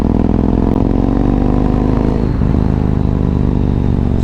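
A Yamaha MT-01 motorcycle engine rumbles loud and close through its exhaust, a deep, steady throbbing note that dips briefly midway as the revs change, with no voices.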